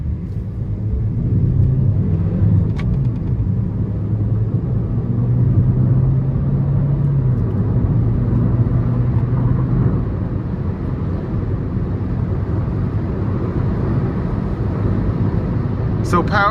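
A 2017 Chevy Cruze sedan with a 1.4-liter turbo four-cylinder accelerating under throttle, a steady low engine drone and road rumble heard from inside the cabin while a person talks over it.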